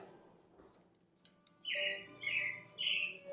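After a quiet start, three bright bursts of bird chirping ring out in quick succession, clear against faint background noise.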